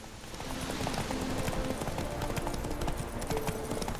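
Horse hooves clip-clopping steadily in The Witcher 3 video game, a continuous rhythmic trot over a game ambience with a brief whinny-like tone.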